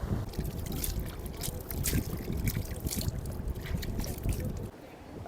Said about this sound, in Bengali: এখানে বেশ স্রোত আছে জল পড়ছে এখানে একটু হাত মুখ ধুয়ে নেব